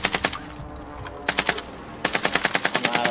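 Automatic weapon fire from Call of Duty: Warzone, coming in rapid bursts of crisp shots separated by short pauses, loud and close, with no talking.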